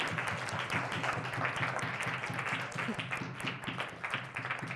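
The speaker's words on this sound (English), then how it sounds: "We have a round of applause for our panel, please." Audience applause for a panel of speakers at an entrepreneurial workshop during a London careers festival: dense, steady clapping from a crowd filling the whole stretch at an even level.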